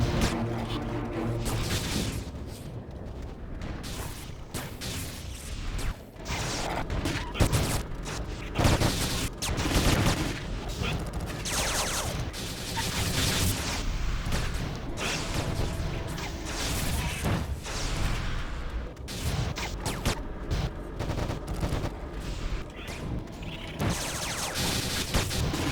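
Rapid pistol fire in the online game Anarchy Online crackles in dense repeated bursts during a raid fight, mixed with impacts and crashes of combat effects, steady and loud with no talking over it.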